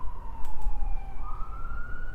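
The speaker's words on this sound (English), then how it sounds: "Oh, the sirens are" Siren wailing loud and steady, its pitch sliding down and then rising again, with a low road rumble beneath and no voices.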